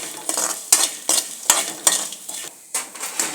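Ingredients frying in ghee in a pan while a utensil stirs, giving sharp rhythmic scrapes and metallic clinks about twice a second over a soft sizzle, close and fairly loud, with no voices.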